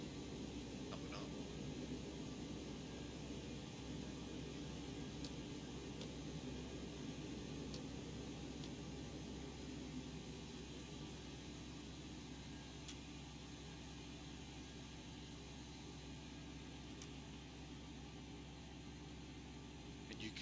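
Boeing 727 APU in X-Plane 11 spooling up as a steady, faint mechanical whine and broadband hum that stays fairly even throughout, with a few soft clicks and no speech.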